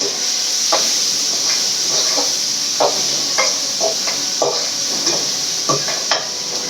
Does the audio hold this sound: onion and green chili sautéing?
yes